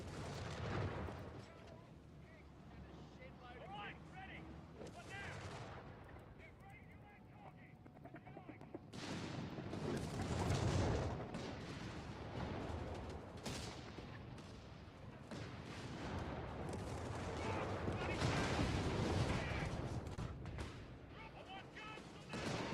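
Tank cannons boom and rumble in Company of Heroes 3 battle, heavy blasts swelling into rolling waves of explosion noise at moderate distance, with a voice talking over parts of it.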